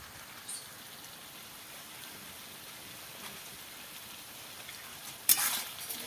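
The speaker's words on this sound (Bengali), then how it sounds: "বাঁধাকপি রান্না হয়ে গেছে, এবার আমরা মাছের তেলটা দিয়ে দেবো।" Cabbage cooking with fish oil in a pan gives a faint, steady low sizzle, quiet and even, with a brief louder scrape or splash near the end and no one speaking.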